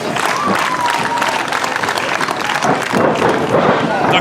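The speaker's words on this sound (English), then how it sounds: "Killa Jay getting the crowd behind her right away." A crowd at an independent women's wrestling match cheers and claps for Killa Jay, a loud, continuous roar of voices and applause filling the venue while a commentator talks over it.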